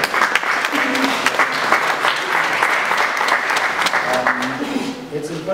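Applause at the official opening of a cartoons and illustrations exhibition, continuous hall clapping for the whole stretch with a voice speaking over it.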